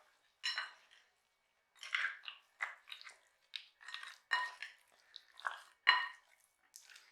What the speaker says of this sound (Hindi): एक चम्मच ले लेते हैं और उसके साथ ये करके अच्छी तरह से मिक्स